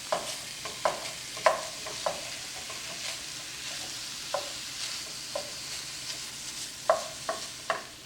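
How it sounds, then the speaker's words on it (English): Ground beef browning in a pan on the stovetop, with a soft steady sizzle and repeated sharp scraping clicks of a utensil breaking up the meat. "So I'll just break down the beef so it browns a little quicker."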